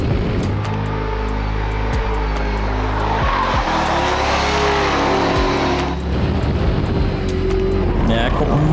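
BMW drift car on a qualifying run at a drifting event in Riga, a loud, close engine roar that rises and falls through gear changes and sweeping revs, with a commentator talking over it.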